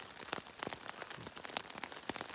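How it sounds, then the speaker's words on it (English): Steady rain patters on a tent during a Pacific Crest Trail hike in Washington, a soft continuous spatter of close, irregular drop taps at low volume. "It's been raining since 2 a.m."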